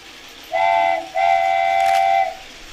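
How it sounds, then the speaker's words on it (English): A train going around a track gives two steady, clear whistle blasts, a short one followed by a longer one, loud and close with no talking. "the next time the train goes around the track"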